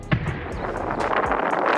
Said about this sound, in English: Explosions erupting across Puerto Vallarta tonight.